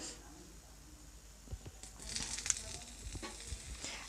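Mustard seeds and cumin dropped into hot oil, a quiet crackle that builds after a near-silent start into scattered pops and short sizzling bursts, close and fairly faint.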